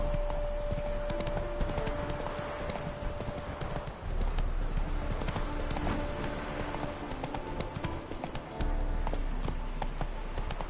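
Hooves of a horse clip-clop in a fast, steady gallop on the ground in The Witcher 3 video game, loud and continuous with game ambience, and a tonal music or effect line briefly present.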